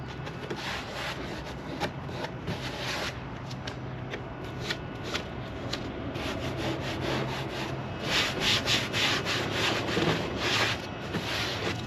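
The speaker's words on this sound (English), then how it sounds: "This will just come off by rubbing it." A cloth or hand rubs residue off a car headliner in close, steady scrubbing strokes, a dry brushing rasp that goes on without pause and grows a little more vigorous toward the end.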